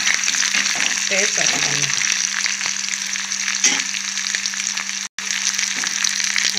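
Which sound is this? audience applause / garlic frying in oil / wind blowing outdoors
garlic frying in oil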